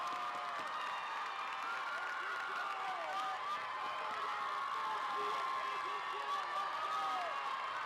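A large crowd at the Cheerleading Worlds 2025 roars and cheers for a team, a sustained, distant-sounding wall of shouting, whistles and scattered clapping that stays level throughout.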